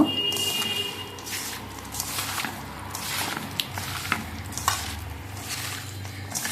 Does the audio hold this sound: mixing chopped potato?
yes